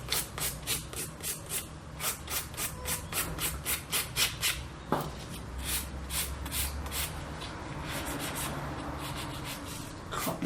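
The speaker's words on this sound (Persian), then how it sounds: "وقتی هم که میخوایم سوهان کشی کنیم" Acrylic nails being filed by hand, a close, rhythmic rasping of quick back-and-forth strokes that turns into steadier, softer rubbing later on, with no speech.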